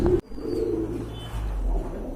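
A pair of red checker pigeons gives a brief, low, throaty coo nearby, heard alone over soft background noise.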